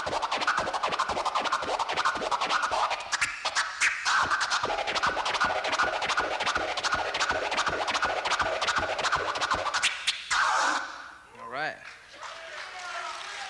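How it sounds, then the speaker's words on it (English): Vinyl scratching on a DJ turntable, a rapid run of two-click orbit scratches with flares forward and back, dense and rhythmic for about ten seconds before trailing off. "He calls it an orbit. So this is what the orbit sound like."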